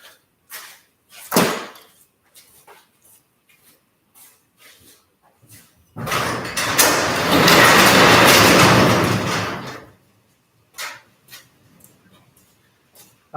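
A small block Chevrolet V8, sitting for a week, cranks and catches into a loud rough idle of about four seconds, then shuts off; sharp clanks and knocks come before and after the run.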